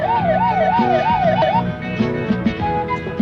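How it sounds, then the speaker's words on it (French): A car siren wails loudly, its rising and falling tone sweeping steadily for about a second and a half before cutting out, leaving scattered clatter and background noise. "Tu fais taire cette sirène"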